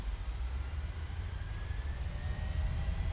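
A United 737-900 airliner taking off in the MSFS 2020 flight simulator game: a steady, broad engine roar with a deep low rumble and a faint rising whine, unbroken and fairly loud throughout.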